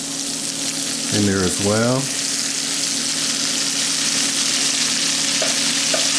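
Butter sizzling in a hot pan beside crispy-skin salmon fillets, a steady close hiss and crackle that continues throughout, with a brief spoken phrase near the start.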